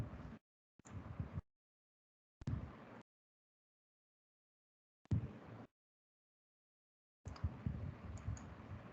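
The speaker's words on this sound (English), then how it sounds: "I'm just typing it in the chat." Typing on a computer keyboard: short bursts of rapid key clicks separated by silent pauses, close and fairly quiet, with the last burst running longer.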